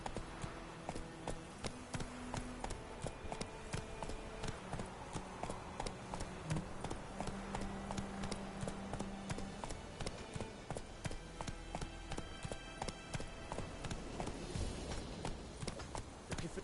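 Roach, a horse in The Witcher: Wild Hunt, gallops with steady, rapid hoof clip-clops that run through the whole stretch over a game music bed.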